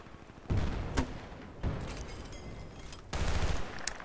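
Gunfire in a Battlefield Bad Company 2 multiplayer match: three sharp bursts of automatic fire separated by short pauses, loud and close, each with a rumbling tail.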